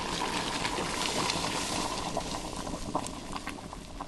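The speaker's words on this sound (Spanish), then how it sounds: "El siguiente paso es agregarle agua hirviendo" Boiling water poured steadily into a pot of homemade Paraguayan vori vori chicken soup, making a continuous loud rushing, bubbling wash with no break.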